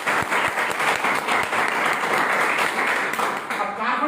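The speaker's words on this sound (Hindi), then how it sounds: "ताली बजा लो" An audience at a training seminar breaks into steady, sustained applause, many hands clapping loudly and continuously close by with a dense, even roar.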